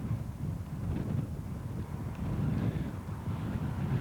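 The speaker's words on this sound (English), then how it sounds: "Bit windy here, slightly damp at times" Wind buffets an outdoor microphone on a damp, breezy day of about 14–15 degrees during a Melbourne-to-Adelaide relay run, a steady low rumble that swells and eases without pause for the whole stretch.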